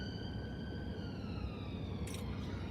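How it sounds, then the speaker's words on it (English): An ambulance siren wails past on Blackpool seafront on a Sunday morning, a steady two-tone wail heard from moderate distance over constant traffic and street rumble, with a brief burst of noise near the end. "An ambulance."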